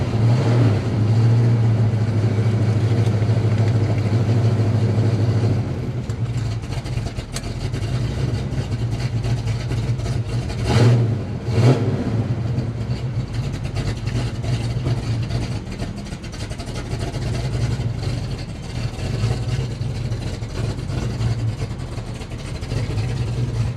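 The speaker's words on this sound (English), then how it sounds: "the exhaust note has just gotten better" A 1970 Pontiac LeMans with a 455 engine drives along, its exhaust a steady, deep, rumbling drone that swells briefly as the throttle changes and continues without speech.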